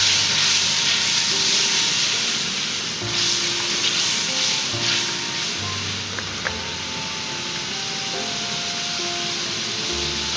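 Tomato paste hits a hot pan for a mix vegetable aloo matar pulao, giving a steady broadband sizzle and hiss that runs continuously throughout with light background hum and no talking.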